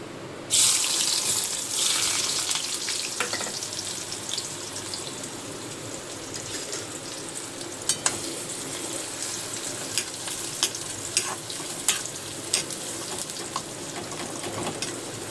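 Chopped onion hits a hot pan with a loud initial hiss, then settles into a steady, close crackling sizzle with scattered pops, no talk over it.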